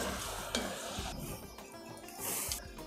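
Jaggery boiling in a pot for rice and lentil payasam, a soft bubbling sizzle with stirring scrapes and faint clinks of utensils, quiet and close, with no talking.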